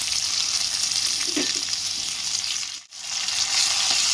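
Tomatoes with onion and ginger-garlic paste sauté in a hot pan for a chicken curry, a steady loud sizzle with a brief stir, then a dip in the sizzle before it returns.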